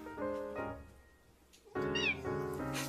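A domestic cat meows loudly and close by, a couple of drawn-out, tonal meows with a short pause between, then a longer, rising call at the end, with no other sounds around.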